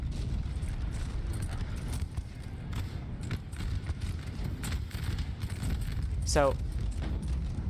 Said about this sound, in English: This big horse gun battery just ripping apart this flank here.